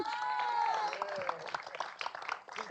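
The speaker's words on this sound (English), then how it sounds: "One more time, a round of applause for Amanda." An awards ceremony audience claps in a soft, steady patter, partly masked by a voice speaking over it.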